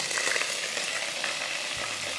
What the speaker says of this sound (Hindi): यह हमने अदरक लहसुन का पेस्ट इसमें ऐड कर दिया